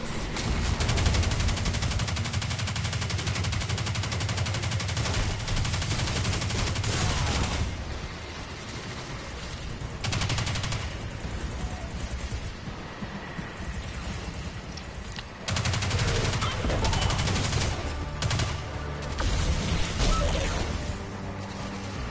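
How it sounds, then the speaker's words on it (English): Heavy, sustained gunfire in the video game Destiny 2: dense bursts and rapid volleys roll on almost continuously, with brief lulls before the shooting surges back, loud and close throughout. "Oh god, he's shooting at me now."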